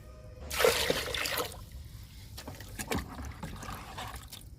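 Water pours and splashes into a container of plant liquid, eight litres in all, a loud gush at first, then lighter sloshing and trickling.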